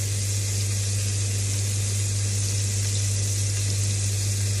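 Beef eye of round searing in a hot pan with crushed unpeeled garlic cloves, a constant dense sizzle and spatter under a steady low hum, close and even.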